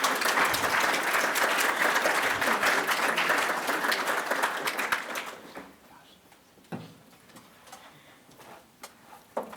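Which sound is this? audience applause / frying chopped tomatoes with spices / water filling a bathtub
audience applause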